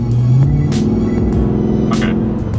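Ford Raptor pickup truck pulling away gently from low revs, a steady deep engine hum and rumble that holds throughout, with faint brief rustles on top.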